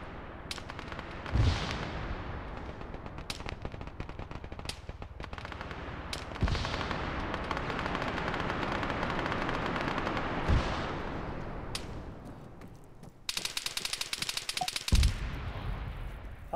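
Bursts of video game gunfire crack out repeatedly, single shots and rapid automatic volleys, loud and sharp against a quieter ambient background.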